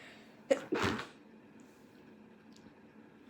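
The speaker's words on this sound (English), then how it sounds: "I'm going to sneeze" A single close sneeze, a sharp intake followed by a burst, then quiet room tone.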